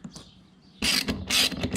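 A ratchet working a bolt on an XR80R dirt bike: a faint click first, then two loud, close bursts of rapid metallic ratcheting.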